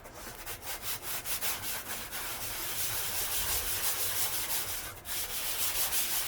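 400 grit sandpaper rubs against VW engine parts to adjust the compression ratio, producing rapid back-and-forth scratchy strokes that are loud and close, in a steady rhythm with a short pause near the end.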